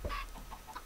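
Chickens in the video game Minecraft give a few short, soft clucks in quick succession, quiet and close with nothing else over them.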